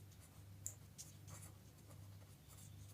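Pen or marker writing out a coin problem in a maths lesson, faint intermittent scratchy strokes over a steady low hum, close and quiet.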